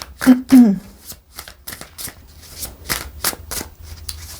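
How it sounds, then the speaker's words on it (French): Tarot cards being shuffled and drawn from the deck, giving a few sharp riffling snaps and a series of papery slaps close by, while someone speaks over them. "je prends encore une carte"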